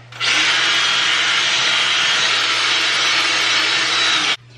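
A power drill spins a brush attachment against a dirty bathtub, a steady loud whirring hiss that holds for about four seconds and then cuts off abruptly, close up with no talking.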